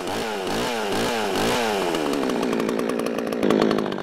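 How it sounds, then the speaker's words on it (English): Chainsaw running close and loud, engine revving in rough repeated surges, then holding a steady high buzz with a brief rise near the end, no voices. "After I start the saw, I always check by running the chain near a piece of timber that there's oil coming out the bar."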